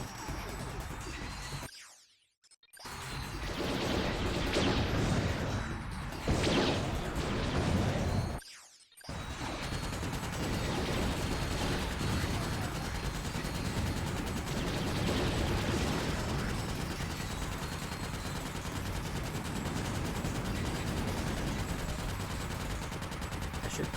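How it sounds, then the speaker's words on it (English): A Quasar turret launcher in the game Ratchet: Deadlocked fires sustained rattling automatic bursts with mechanical clanks and crashes, loud and continuous apart from two short silent gaps near the start. "Quasar turret launcher."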